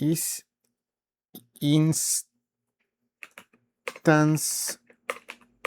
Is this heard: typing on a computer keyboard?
yes